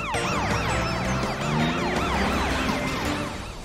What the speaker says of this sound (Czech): Zapni si sirénu, super policejní nákladňáku.